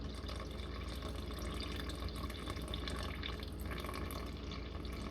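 Water pours steadily into a container while sourdough is being mixed, a close, continuous splashing trickle that holds at an even level for about five seconds without pause.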